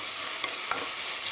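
Ground beef stir-fries in a hot pan for mapo doufu, giving a constant bright sizzle with a couple of faint scraping stirs, close and alone.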